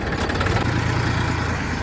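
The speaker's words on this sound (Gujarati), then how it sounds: "આપણે ઘરેથી ટ્રેક્ટર લઈને નીકળી જાય છે હવે" A tractor engine runs nearby with a steady, loud rumbling idle and an even throbbing vibration throughout, with no talking.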